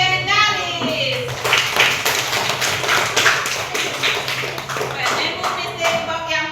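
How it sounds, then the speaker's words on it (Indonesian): A classroom of children and adults clapping for the winning group during a school activity, steady rhythmic claps lasting several seconds under lively voices and an adult speaking over them. "Sekarang tepuk tangan untuk pemenang kita, kelompok legendaris."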